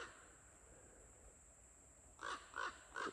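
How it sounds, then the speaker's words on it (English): A crow flying overhead gives three loud, evenly spaced caws near the end, preceded by a quiet outdoor background. "crow"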